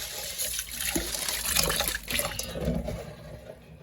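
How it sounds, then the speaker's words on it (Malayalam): Water splashes and sloshes continuously as food is washed and drained in a kitchen during cooking, a close, moderately loud wet churning with small bursts of pouring. "നല്ലോണം കഴുകിയിട്ട് രണ്ട് മൂന്ന് കഴുകും കൂടി കഴിച്ച് നമുക്ക് ഊറ്റി വെക്കാം"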